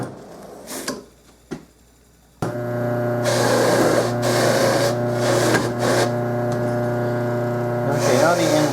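Buffing wheel fitted with a smaller wheel removes lacquer from the inside of a trumpet crook. After a few quiet seconds, a steady motor whine with a droning tone starts abruptly and runs on, loud and close.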